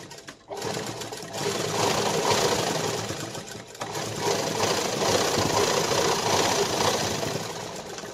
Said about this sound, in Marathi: आपल्याला एक शिलाई मारून घ्यायची